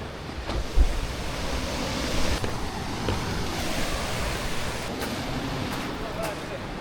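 Ocean waves washing onto the shore beside a seaside camp, a steady broadband surf roar with gusts of wind buffeting the microphone, continuous throughout.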